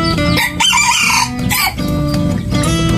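Chickens in a coop, including a hen, cluck and crow continuously at close range, overlapping and fairly loud, with no talk.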